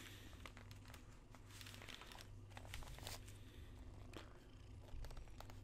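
Cat purring close and soft, a continuous low rhythmic rumble with faint crinkling rustles on top, very quiet overall.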